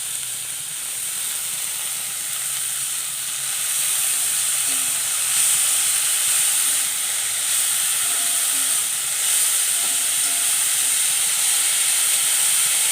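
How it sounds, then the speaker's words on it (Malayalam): Chopped winged beans dropped into a pan of softened sautéed onions give a loud, steady sizzling hiss that swells slightly after the first few seconds and holds evenly, close up with no voices. "സവാളയൊക്കെ വാടി വന്ന സമയത്ത് കൊത്തി അരിഞ്ഞ് ഉപ്പിട്ട് തിരുമ്മി കഴുകി ഊറ്റി വച്ചിരിക്കുന്ന നമ്മുടെ ചതുരപ്പയറിട്ട് കൊടുക്കാം."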